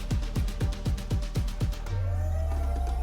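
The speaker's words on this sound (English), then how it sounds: "So an eagle flying overhead." An AI-generated sound effect of an eagle flying overhead: about eight quick, evenly spaced descending sweeps, then a steady sustained tone with a low rumble, fairly close and clean.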